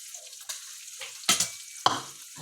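Food fries in a pan over a charcoal fire, with irregular crackling bursts and short hissing spurts close by against a quiet background.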